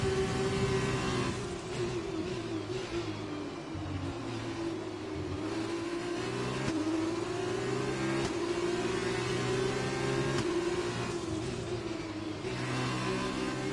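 Formula 1 car in the F1 2020 game at Monza, its engine revving loud and steady as it accelerates, pitch climbing and dropping through gear shifts, heard alone without talk.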